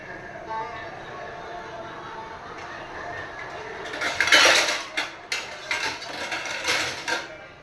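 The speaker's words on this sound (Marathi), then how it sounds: "हे पहा, आता मी झाकण ठेवते" A metal lid goes onto a cooking pot of simmering cashews, with a run of clattering clanks and scrapes in the second half, while a voice speaks under the faint background hiss of the stove.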